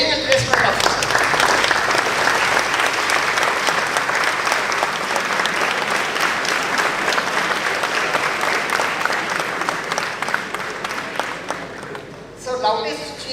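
An audience at a 2022 college orientation programme at LNMIIT Jaipur claps and cheers for an introduced training and placement officer, dense sustained applause that tapers off near the end.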